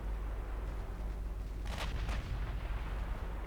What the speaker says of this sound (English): Here come the torpedoes.